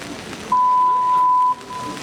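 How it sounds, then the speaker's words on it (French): A single steady electronic sync beep for camera and sound sounds for about a second at a citizens' assembly meeting, loud and clean over faint room noise. "C'était un petit bip pour la caméra et le son et le truc."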